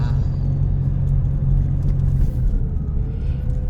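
Steady low road rumble of a car driving along a canal-side road past lotus ponds in Nong Bua Lamphu, Thailand, continuous and close with no talk.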